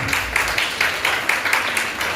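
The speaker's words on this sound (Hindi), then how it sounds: "उस बेटी के लिए ताली बजाइए जिसने पूछा।" An audience at a school session for girl students breaks into steady applause, many hands clapping together in a dense, even roar with faint rhythmic pulses, and no voices over it.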